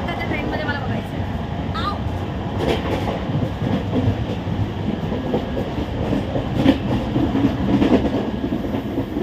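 Inside a third AC coach of a moving train from Mumbai, a continuous rumble and rhythmic clickety-clack of the wheels carry on steadily, with faint voices underneath.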